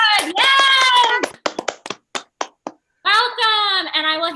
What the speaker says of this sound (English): I will clap in my own home.